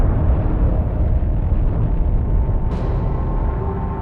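Gamma-ray burst explosion sound effect: a loud, sustained roaring rumble filling the whole stretch, with a sharp bright burst flaring near the end.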